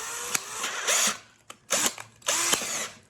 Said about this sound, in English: Okay, so I'm putting the drill in reverse and I'm coming backwards